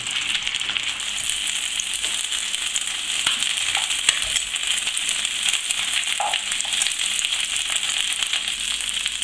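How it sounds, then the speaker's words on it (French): Chicken ballotines stuffed with poultry liver brown in hot butter, giving a steady, close crackling sizzle with scattered pops that runs evenly the whole time. "Lorsque le beurre est bien chaud, donc mettez vos ballotins à dorer sur toutes les faces"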